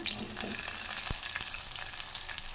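Onions frying in a pan while making bakery-style bread toast, a steady close sizzle with faint crackles and a soft scrape or two, with no one talking.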